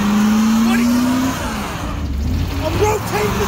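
A truck's engine revs hard as its tires spin during a botched tire rotation, a loud continuous roar with a rising tone in the first seconds, then a rougher rumble while someone shouts over it.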